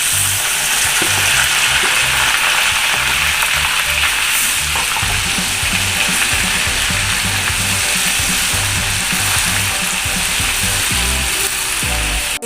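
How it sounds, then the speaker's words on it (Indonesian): Chili peppers fry in hot oil for a Padang-style balado sauce, giving a loud, steady sizzle and crackle that runs unbroken throughout, with occasional stirring clatter and no talking. "kemudian kita goreng cabenya"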